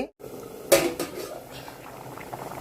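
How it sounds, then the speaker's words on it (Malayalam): A pot of curry bubbling and simmering at close range, with a sharp clatter of a utensil against metal near the start. "കറികളൊക്കെ ഇതാ നല്ലോണം തിളച്ചിട്ടുണ്ട് കേട്ടോ നല്ല അടിപൊളിയായിട്ട് തിളച്ചിട്ടുണ്ട്"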